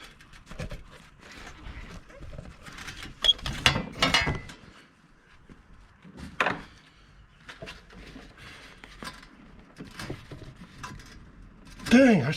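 Ratcheting wrench clicks and metal mechanism sounds while loosening a tight part during service on a Kioti tractor, in irregular bursts up close, with some clanks and light movement noise.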